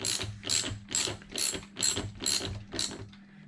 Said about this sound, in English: all I have to do is go ahead and put the nut on, and then I use a ratchet